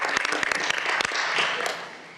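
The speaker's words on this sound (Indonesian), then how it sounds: "Kita berikan tepuk tangan dulu buat Komisi 3 DPR." An audience applauds Commission III of the Indonesian House of Representatives during a televised legal discussion, the claps dense and steady at moderate loudness and thinning toward the end, with no talk over it.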